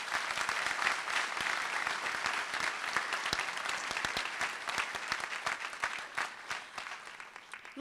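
Sustained applause from a large audience at a 2019 university commencement ceremony in Grenada, dense steady clapping throughout that thins slightly toward the end.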